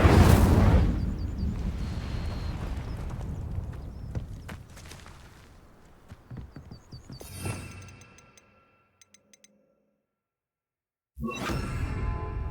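A fire spell cast in Hogwarts Legacy bursts with a loud whooshing blast at the start, then fades into softer crackling pops, silence, and another sudden burst near the end.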